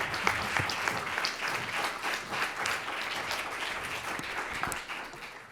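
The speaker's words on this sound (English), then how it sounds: "I think he deserves a phenomenal round of applause for pulling us all together." An audience at a community event on immigrant families gives sustained, even applause, many hands clapping steadily with only slight rises and dips.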